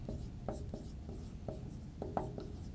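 Chalk or marker strokes on a board as angles are written out in a math lesson, a series of short scratchy taps and scrapes, close and fairly quiet.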